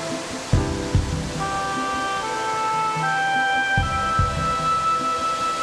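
A broad waterfall in Fujinomiya, about 200 m wide and 20 m high, pours off a cliff in a steady, dense rushing roar. Faint sustained tones sit above it, with a few soft thumps near the start.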